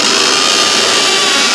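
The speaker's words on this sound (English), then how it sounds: "you then drill a hole" A power drill bores a hole into a wall to fix a kitchen base unit with space plugs, giving a steady, loud, continuous whine and grind with no pauses.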